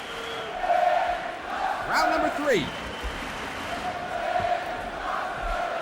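A sellout crowd of 14,000 at the Gerry Weber Stadium in Halle, Germany, for an IBF light heavyweight title boxing fight: a broad arena roar that swells and ebbs, with a commentator talking over it.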